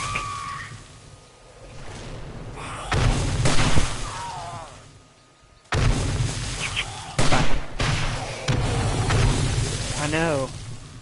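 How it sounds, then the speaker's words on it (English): Explosions in the zombie survival game 7 Days to Die, heavy booms and blasts arriving in bursts with sharp onsets and rumbling tails, loud and close, mixed with voices talking over them. "Y'all hear explosions? That was me."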